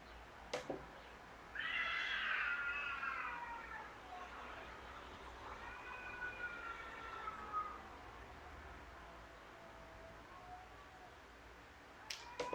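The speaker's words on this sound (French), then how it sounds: "il y a un chat qui crie là, ça me perturbe" A female cat in heat yowls outdoors in long, wavering, drawn-out cries, two main wails rising and falling over steady background noise, fairly loud and with no talking.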